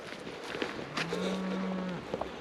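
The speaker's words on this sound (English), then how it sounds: "I can't agree more with you, cow. He's mooing, he's letting me know something." A cow on the Fife coast gives a single long, low moo at moderate distance, with faint outdoor background and light rustling around it.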